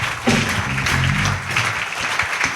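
A church congregation at a Pentecost seminar acclaims the Lord with applause, a dense wash of clapping mixed with low voices and cheering, loud and close throughout.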